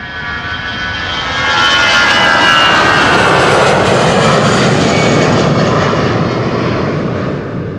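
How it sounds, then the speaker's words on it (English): An Air France Airbus A320 jet on its flight to Paris Charles de Gaulle roars past at Amsterdam Schiphol, its engine noise loud and near, swelling after the first second and holding a steady, whining rush before easing slightly. "This is Air France, flight 1341 to Paris Charles de Gaulle. And that's an A320."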